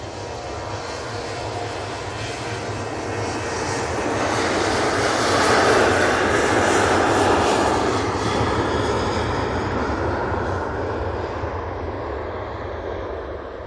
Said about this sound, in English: that Ryanair is off to Valencia